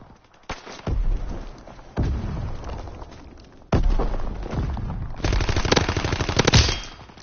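Repeated bursts of gunfire in Call of Duty WW2, rapid machine-gun volleys and single loud shots coming in several separate clusters, close and punchy, with no talk over them.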